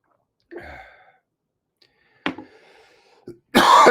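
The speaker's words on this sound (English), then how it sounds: "Can't stop coughing today." Someone coughs three times in separate short bursts: a loud hacking cough, a second sharp cough trailing into a rasp, and a brief third, followed by a loud breathy burst at the end. No speech.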